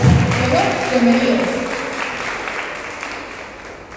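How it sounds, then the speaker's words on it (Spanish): An event-hall audience applauds Diego as he comes on stage in Guatemala, a dense wash of clapping that starts full and slowly fades, with a voice speaking over the start. "un aplauso para Diego, por favor, que está aquí en el escenario con nosotros"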